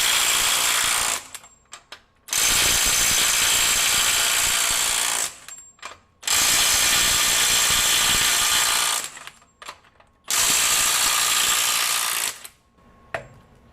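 A Snap-On CT9015 mid-torque impact wrench runs in reverse at its strongest mode, set to 200 foot-pounds, in three loud, close bursts of hammering rattle, each a few seconds long and separated by short quiet gaps, with no talk.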